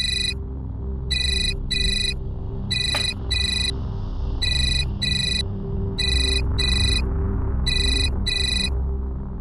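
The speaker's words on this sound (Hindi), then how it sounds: "तुम्हारा फोन बज रहा है।" A phone rings in a home during a dramatised crime episode: loud, repeated electronic ringtone bursts in a steady pattern over a low background hum, with no talking.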